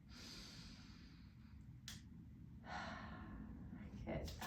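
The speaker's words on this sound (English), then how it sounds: "breathing in and breathing out" Slow breaths drawn in and let out during a guided breathing exercise, soft airy inhales and exhales heard faintly and close against a quiet background.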